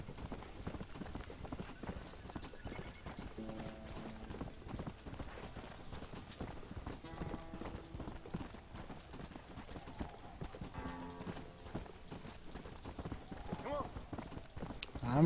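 Horse hooves in the video game Red Dead Redemption: Undead Nightmare clip-clop in a steady trotting rhythm throughout, moderately close, with a voice speaking intermittently over the steps.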